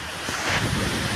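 Steady wind rushes and buffets the microphone outdoors, a broad, noisy roar with no clear voices.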